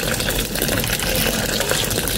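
Milk pouring into a pot of pasta on the stove, a continuous close liquid gushing and splashing that holds steady throughout, with no talk.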